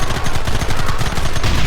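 Rapid, dense gunfire rattles without a break in a Red Dead Redemption cutscene, loud bursts of overlapping shots close by with no talking.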